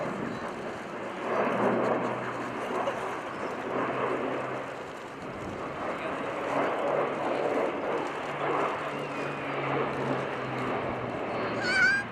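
An Airbus A400M flying a steep-banking display at the RIAT Fairford airshow makes a fluctuating engine drone at moderate distance, rising and falling in waves over the open airfield.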